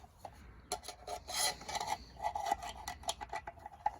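Screws are driven by hand to fix a metal can onto the wooden neck of a one-string canjo, giving close, uneven rasping and scraping bursts with small clicks and no talking.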